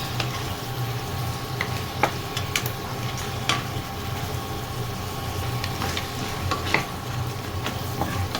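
Garlic, shrimp and lobster sizzling in a pan, with steady frying crackle and repeated clicks and scrapes of stirring, close and continuous with no talking.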